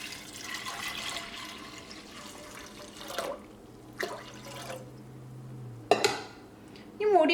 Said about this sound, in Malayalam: അപ്പോൾ കുറച്ച് കൂടുതൽ വെള്ളം ഒഴിക്കുക